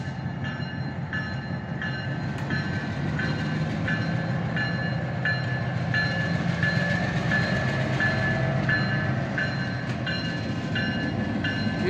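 A Norfolk Southern freight train climbs a hill, its heavy rumble and rolling rail noise steady and loud, with faint metallic squeals and clicks passing throughout.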